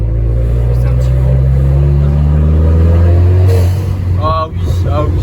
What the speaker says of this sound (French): En plus le passement de vitesse il est net, genre tac.